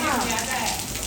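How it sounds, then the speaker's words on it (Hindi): Heavy rain pours down steadily around a house, a dense continuous hiss that stays near and loud throughout, with a voice talking faintly over it. "अहमद कितनी बारिश है, कितनी बारिश है, तेज बारिश है।"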